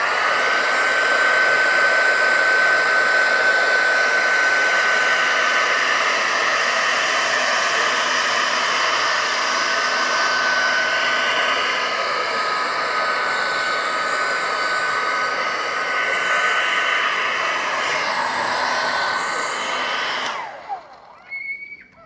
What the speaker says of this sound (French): on a un sèche-cheveux et on va chauffer donc la partie